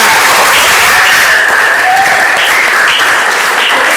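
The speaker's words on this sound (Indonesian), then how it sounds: "Ya, tepuk tangan untuk kita semua." Loud, dense applause from a classroom audience of teachers and students fills the whole stretch, a steady wash of many hands clapping together close to the microphone.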